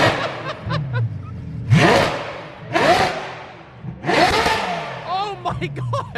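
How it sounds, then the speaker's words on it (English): A loud car engine barking through a cold start and then revving in repeated sharp surges that rise and fall, recorded close by at an outdoor car gathering, with voices and laughter faintly between the bursts. "cold startup."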